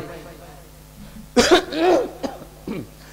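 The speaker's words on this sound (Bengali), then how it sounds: "একটু খুশখুশি কাশি হবে" A preacher at a live religious gathering gives a short, dry, tickly cough into the microphone, then a throat-clearing sound and some speech, over a faint room hum.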